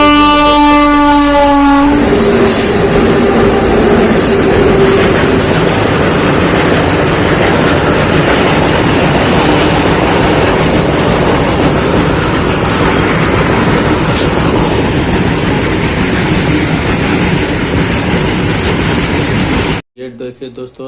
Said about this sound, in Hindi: हमने डाउन लाइन का ट्रेन को दिया था रूट क्लियर, और ट्रेन आ रही